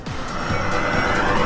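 A homemade all-electric race car speeds along a racetrack, a steady loud whine and rushing road and tire noise building continuously with no engine roar and no talk.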